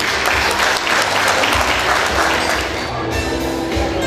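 Loud, close applause fills an anniversary ceremony of the Associação Colonial de Pelotas, many people clapping in a thick continuous burst that holds steady for the whole stretch over a low hum.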